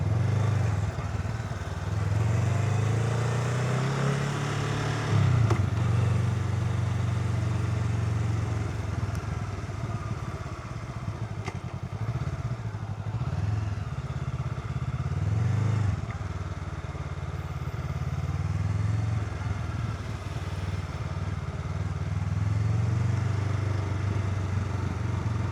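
A Honda Rebel 500 motorcycle ridden on the road hums with a steady mid-range engine drone and wind rush, occasional throttle swells and clatter rising over the continuous low rumble.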